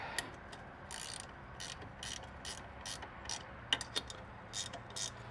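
Quiet, close ratcheting clicks come in short bursts as a tool is twisted to raise a Mercury 60HP outboard motor, an irregular mechanical clicking with no voices.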